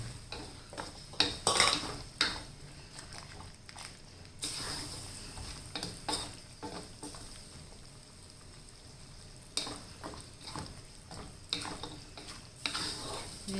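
A spoon scrapes and clinks against a pan in bursts while pork panang curry with red chilies sizzles softly underneath, close by and fairly quiet.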